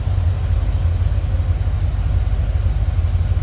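A 1976 Chevrolet Corvette C3 coupe with a 350 V8 and four-speed idles smoothly and steadily, a close, loud, even low rumble with no revving and no voices.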